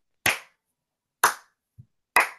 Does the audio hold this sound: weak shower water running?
no